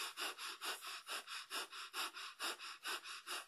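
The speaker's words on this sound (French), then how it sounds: "j'accélère ma respiration" Quick, rhythmic breathing at roughly four breaths per second, each breath a short airy puff close to the microphone, steady and unvoiced with no talking.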